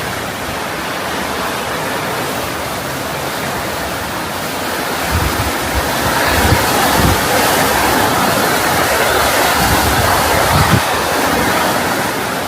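Rushing floodwater in Oregon roars loudly and continuously, a broad churning surge that swells slightly louder partway through.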